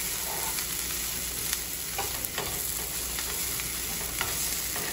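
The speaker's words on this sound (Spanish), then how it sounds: "Un pedazo de cebolla, un pedazo de chile morrón, hecho pedacitos así para que se dore, cortadito" Chopped onion and bell pepper fry in a pan with a continuous bright sizzle, broken by soft scrapes and stirring strokes up close, and nobody talks.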